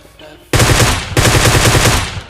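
Two loud, close bursts of rapid automatic gunfire from PUBG Mobile Lite gameplay, a short rattling volley followed by a longer one after a brief pause, with no talk.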